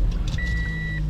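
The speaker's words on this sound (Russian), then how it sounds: "сейчас заведем, пускай пока греется" A car at a used-car market started with its start-stop button, a steady low engine rumble with a thin electronic tone running over it, close and continuous.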